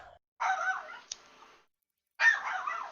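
A yappy dog barks in two bursts, loud and close, with a short yelp between them and a quiet gap before the barking picks up again.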